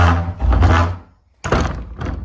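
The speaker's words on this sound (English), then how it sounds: "Sorry, the ground is like uneven, so the door doesn't really shut." A door on uneven ground bumping against its frame without latching, two close heavy thuds and rattles separated by a brief quiet gap.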